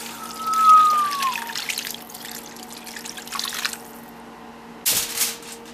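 Liquid is poured over seitan in a baking pan, a soft trickling pour at moderate volume with a brief clatter near the end and no talking.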